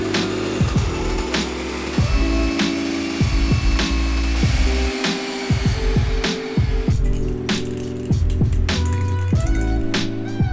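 A power tool cuts through slip-fit sections of custom exhaust pipe for a Honda CX500 motorcycle, buzzing in short bursts broken by sharp clanks and stops, close and loud.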